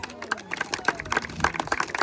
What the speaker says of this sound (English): You can feel free to give him a big round of applause.